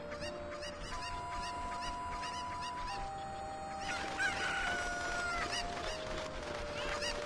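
Cucco chickens in the Ocarina of Time video game cluck and squawk repeatedly over steady game background music, a busy, continuous flurry of bird calls.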